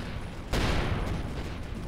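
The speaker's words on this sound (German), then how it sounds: "Unten explodiert gerade irgendwas." Explosions in the space game Avorion, a sudden loud burst at about half a second followed by a sustained rumbling roar with crackling debris that fills the rest of the moment.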